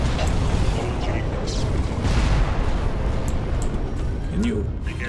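Rocket barrage explosions in a Star Wars strategy game, a dense continuous rumble of overlapping booms and blasts at loud level, with a voice speaking over the bombardment.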